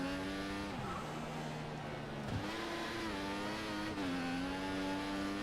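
Simulated Formula One car in the F1 2014 video game, its engine droning steadily with rising and falling pitch through gear changes while the tyres slide and squeal around the track, loud and continuous with no talk.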